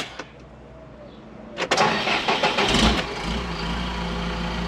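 A few clicks, then a farm sprayer's diesel engine cranks and fires up, settling into a steady low idle close by.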